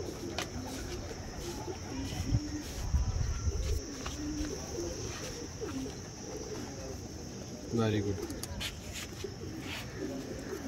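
Kunda pigeons coo in soft, low repeated calls from a loft, faint under steady background hiss, with a brief burst of a person speaking near the end.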